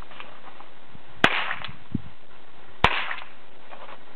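A Power alarm toy revolver fires two sharp, loud cracks about a second and a half apart, each with a brief tail, against a quiet background with faint handling noises between shots.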